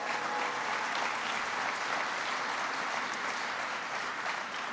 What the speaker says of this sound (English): Give Tom Vilsack a big round of applause.